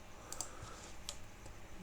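A few soft, quick keystrokes on a computer keyboard while typing code, faint and sparse clicks against a quiet background.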